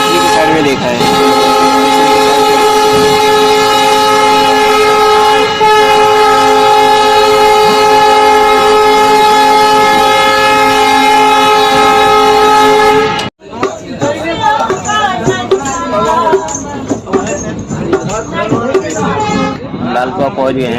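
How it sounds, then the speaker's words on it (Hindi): Uttaranchal Sampark Kranti Express pulling into Lalkuan station, a loud sustained horn blast holding steady for about thirteen seconds before cutting off into the rumble and clatter of the arriving train. "लाल कुआं पहुँच गए हैं और लाल कुआं में अपने ट्रेन का अराइवल है।"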